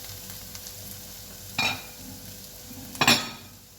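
Food fries with a low steady sizzle in a pan while a utensil scrapes and stirs, two sharper scraping bursts standing out clearly above the background frying.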